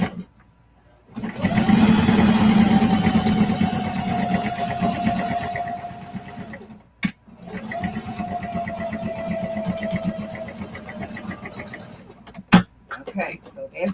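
Sewing machine top stitching a clear vinyl bag, a fast, steady mechanical whir running for several seconds, pausing briefly, then resuming, with a person talking over and between the stitching.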